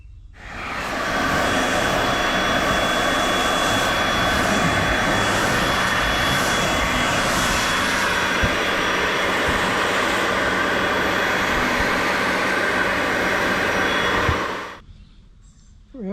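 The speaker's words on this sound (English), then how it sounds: "this little vac's not doing as bad a job as I thought" A small handheld vacuum cleaner runs steadily and loudly at close range for about fourteen seconds as it cleans car seats, a constant whine with no talking, then it shuts off and winds down.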